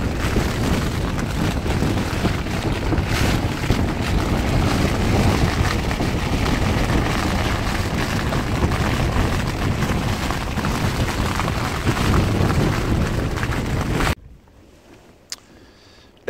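Strong mountain wind at 30 to 40 mph with gusts roars and buffets a North Face Westwind tent in the Mourne Mountains, a loud continuous rushing blast that cuts off abruptly near the end.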